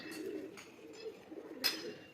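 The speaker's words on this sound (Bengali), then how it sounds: "এই হচ্ছে চোখ পায়রা" Pigeons at a loft give low, soft cooing at close range, broken by a few sharp rustling bursts of movement, quiet overall.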